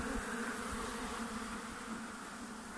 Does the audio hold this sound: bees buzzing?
yes